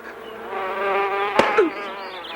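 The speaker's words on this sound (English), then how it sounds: "Look at all those bees!" A dense swarm of bees hums steadily and close, a continuous droning buzz with no voices, briefly broken by a sharp click and a short rising whine.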